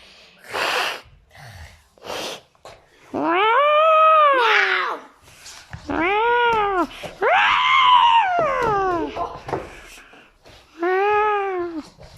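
Cats yowl and scream in long, wavering wails, loud and close, broken by sharp hisses and spits between cries.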